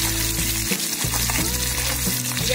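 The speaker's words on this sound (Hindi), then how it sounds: "तेल को हम अच्छी तरह से गरम कर लेंगे। अब सबसे पहले लहसुन डालेंगे।" Garlic dropped into well-heated oil in a pan for spicy garlic chutney, giving a steady close sizzle and crackle throughout with no talking.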